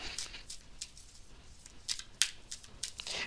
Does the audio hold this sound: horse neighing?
no